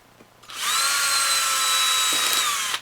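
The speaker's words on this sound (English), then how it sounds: "then you want to drill one hole" Power drill boring a hole into wood for a SnapBow build, a steady high-pitched whine running continuously for about two seconds after a brief quiet start, close and loud.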